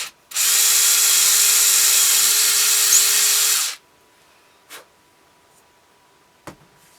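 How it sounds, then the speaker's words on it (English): A high-pitched power drill whines steadily for about three seconds, close and loud, drilling a screw hole in thin wood, then stops; a couple of faint clicks follow. "I'm going to drill a hole in here so we can put our screw through."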